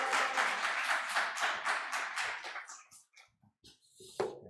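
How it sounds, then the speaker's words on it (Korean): Congregation applause during a church anniversary service, a dense burst of clapping that thins into scattered claps and then dies away. "할렐루야 큰 박수 하겠습니다"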